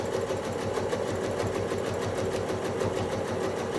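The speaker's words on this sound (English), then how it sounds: "I'm going to get started just stitching right on my piecing line" A domestic sewing machine runs steadily through free-motion quilting stitches along a piecing line in a Drunkard's Path block, a fast, even mechanical chatter held close and loud with no talking.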